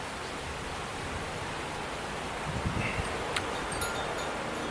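Strong wind buffets the microphone in a steady broadband roar near flood-threatened ground in Thailand, with gusty swells and rustling, no speech.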